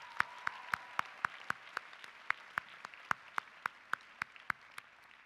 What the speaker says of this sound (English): give a round of applause to all of the families who've come to celebrate